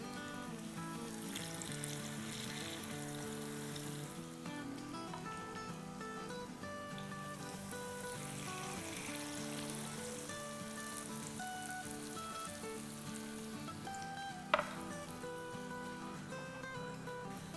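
Potato hashbrown kababs fry in a pan with a soft, continuous sizzle like light rain, faint and steady throughout, with one brief sharp tap near the end.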